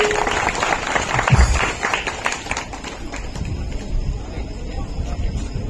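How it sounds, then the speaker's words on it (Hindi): Crowd applause welcoming a guru, scattered clapping and cheering that starts busy and loud then thins into looser, uneven claps, with some background voices mixed in. "तालियों की गड़गड़ाहट से स्वागत, वंदन, अभिनंदन"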